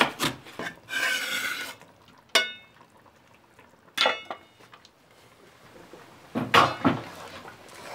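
Tamarind pulp being mixed into a paste by hand or spoon, giving several short, close rasping and squelching bursts separated by quiet pauses.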